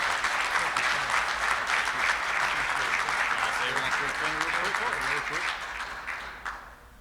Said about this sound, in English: I'd like to give another big round of applause to Kenneth Parker for his presentation today.